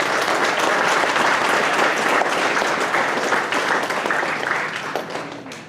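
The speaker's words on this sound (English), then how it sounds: "give Destiny a round of applause" Audience at a JROTC awards banquet breaks into a steady round of applause for a cadet, full and close at first, then gradually thinning and tapering off.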